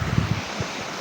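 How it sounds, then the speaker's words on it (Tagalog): A strong current of water rushing down a small waterfall, a steady close wash with wind buffeting the microphone and soft low thumps. "Tapos ang lakas ng agos ng tubig."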